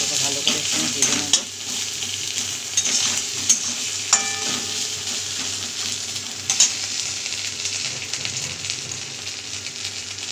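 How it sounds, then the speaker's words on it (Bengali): Ginger and garlic paste frying in oil in a pan, a steady close sizzle throughout with occasional scrapes and taps from stirring. "এটাকে ভালো করে একটু ভেজে নেব।"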